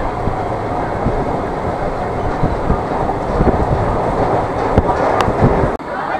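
An Indian Railways passenger train, the 20943 service from Bandra Terminus to Bhagat Ki Kothi, runs on its rails with a continuous heavy rumble and occasional sharp clacks, heard close from on board.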